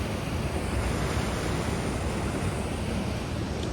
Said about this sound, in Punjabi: ਆਹ ਸਾਈਡ ਦੇਖੋ ਐਨ ਪਾਣੀ ਚੱਲਦਾ